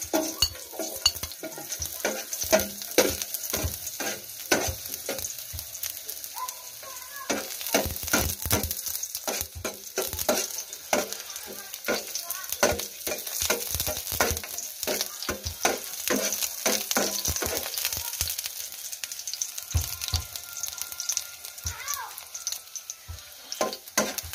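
Onions sautéing in hot oil in a pan for an adobo-style dish, a steady crackling sizzle broken by frequent scraping stirs, close and continuous with no talk.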